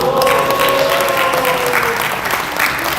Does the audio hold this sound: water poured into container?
no